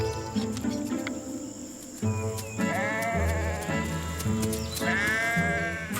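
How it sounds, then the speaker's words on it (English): Several sheep grazing in a mixed orchard bleat loudly in turns, wavering cries overlapping, with a constant chirp of crickets in the background. "From time to time, sheep come and graze in the field under the trees."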